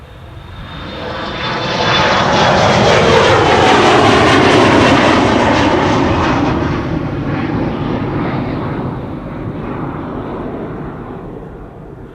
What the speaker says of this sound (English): we first have to see this Embraer 175 out, going to Oslo